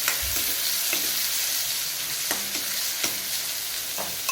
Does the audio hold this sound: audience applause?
no